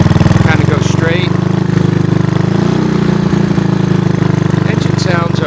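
A 1983 Honda ATC200 three-wheeler engine runs close and loud with a steady, throbbing idle and a slight rise in pitch partway through, while someone talks over it.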